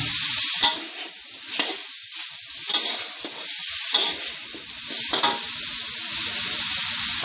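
Pieces of free-range chicken stir-fry with red curry paste over high heat, a constant close sizzle broken by about six sharp spatula scrapes spaced a second or so apart.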